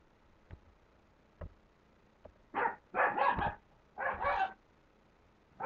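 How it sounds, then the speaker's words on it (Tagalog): A few soft ticks, then a dog barks in two pairs of quick, moderately loud woofs at middle distance. "Yan yung aso."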